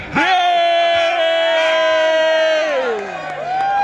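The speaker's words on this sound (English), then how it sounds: "A crowd of Brexiteers cheer Tony Blair" A crowd of Brexiteers in Parliament Square, London, cheers loudly in one long sustained chorus of shouting voices, rising together and tapering off near the end.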